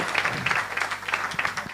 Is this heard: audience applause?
yes